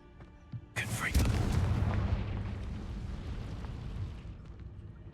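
The Confringo fire spell in Hogwarts Legacy erupts with a sharp blast that swells into a long, heavy rumbling roar, then slowly fades.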